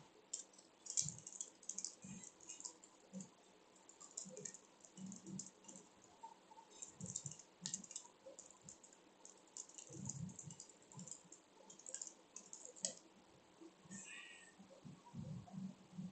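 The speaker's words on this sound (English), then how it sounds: "let's start typing." Typing on a computer keyboard during a live stream, a steady run of close, quick key clicks with irregular bursts and brief pauses, continuing throughout with no talk.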